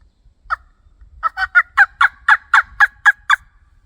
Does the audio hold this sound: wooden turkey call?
yes